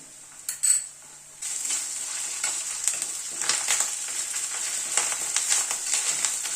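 Ginger paste is stirred into a pan of spices with panch phoron, asafoetida and onion. A brief metallic clink comes first, then a close, steady sizzle starts, with repeated spatula scrapes and stirring knocks against the pan.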